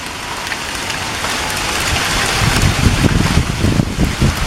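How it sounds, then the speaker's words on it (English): Heavy rain and hail pour down steadily during a severe thunderstorm, a dense, loud roar with gusty wind noise that grows heavier and more pattering midway through. "So yeah, it is hailing, and I'm pretty sure it's pouring out right now."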